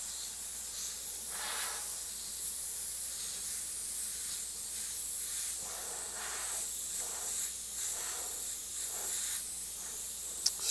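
Airbrush spraying very light gray paint over a paper stencil, a steady airy hiss running throughout with soft surges as the trigger is worked, close and continuous with no talk.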